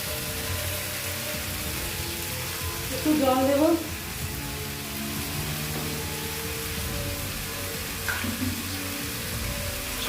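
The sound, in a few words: small amount of water poured into sizzling kadai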